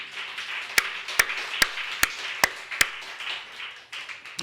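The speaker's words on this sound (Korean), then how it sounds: "박수 한번 쳐야 안 되겠나?" A congregation claps in unison during a Korean sermon, six sharp evenly spaced claps about every 0.4 seconds over a quiet room murmur, then it stops.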